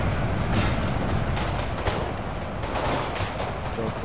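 Cannons boom repeatedly on a battlefield in the video game Napoleon: Total War, irregular heavy blasts over a constant rumbling din of battle.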